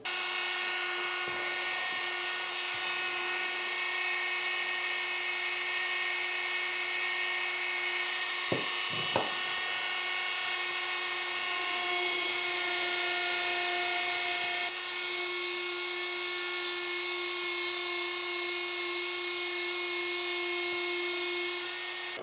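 A Dremel rotary tool fitted with a Kutzall tip burr carving: a steady, close, high-pitched motor whine runs the whole time, with a couple of brief sharp taps midway and a slight shift in pitch later on.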